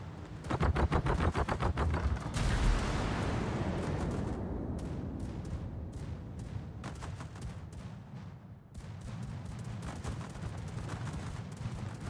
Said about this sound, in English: I like the defensive anti-air fire here.